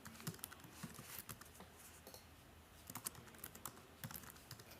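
Typing on a computer keyboard, a quiet close patter of irregular clicking keystrokes with short pauses, heard alone without speech.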